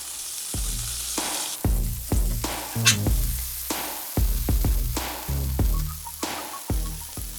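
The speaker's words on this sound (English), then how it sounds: "Burgers have been cooking." Burgers and onions sizzling on a hot griddle for a chopped cheese sandwich, a steady frying hiss broken by repeated scraping and clanking of a metal spatula, close and moderately loud.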